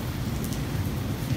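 Steady rain falling at an outdoor market, a dense continuous patter close by with no pauses, heard on its own.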